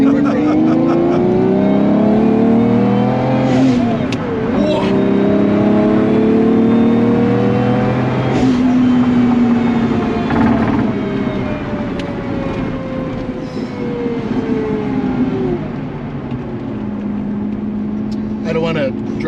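A twin supercharged Lamborghini Diablo drives along, its engine rising and falling through several loud revving pulls and shifts, with voices talking over it.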